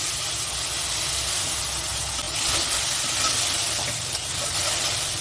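Ginger garlic paste hits fried onions in a hot pan, giving a loud, steady hissing sizzle that holds evenly for the whole stretch, with no voices.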